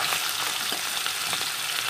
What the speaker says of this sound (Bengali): এখন হচ্ছে মাছ ভাজা, সীতাপাটি মাছটা ভাজা হচ্ছে।